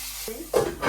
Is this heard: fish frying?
yes